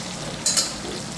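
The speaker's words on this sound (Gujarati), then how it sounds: "થોડા હળવા હાથે એને હલાવી લઈશું" Stuffed brinjals with potatoes fry in hot oil with a steady close sizzle, and a short scraping stir cuts through it midway before the frying hiss settles again.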